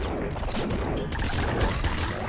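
A plasma gun explosion in the Nuclear Throne video game, a dense burst of crackling blasts and crashing noise that stays loud and continuous throughout, with no talk over it.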